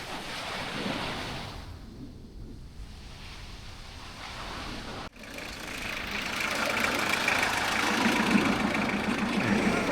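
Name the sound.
car engine running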